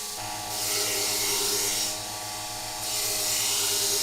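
A belt sander grinds the rough edges of a blade, its steady motor drone swelling into two harsh, rasping bursts as the metal is pressed against the belt.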